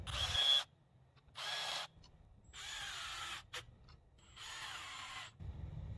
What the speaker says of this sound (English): make sure you pre-drill